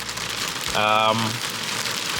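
Steady rain patters on a car during bad weather, a dense even hiss throughout, with a brief tonal sound in the middle.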